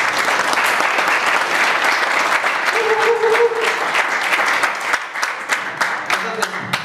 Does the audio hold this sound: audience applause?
yes